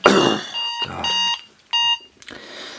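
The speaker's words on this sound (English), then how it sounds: "my alarm going off because I'm on night shift" An alarm clock beeps in repeated bursts of steady electronic tones, loud and close, with a brief noisy rustle at the start.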